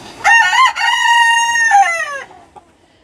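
A rooster in a backyard coop of Silkie chickens lets out one loud, close, drawn-out crow with no talk around it.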